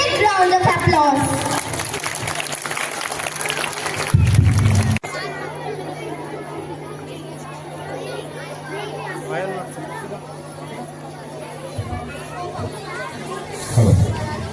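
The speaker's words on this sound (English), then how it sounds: "Please welcome him with a big round of applause." An audience at a school Independence Day celebration in Ghaziabad applauds in a steady, sustained wash of clapping and crowd chatter as an Assistant Commissioner of Police is welcomed. It runs for several seconds with a fuller burst near the end.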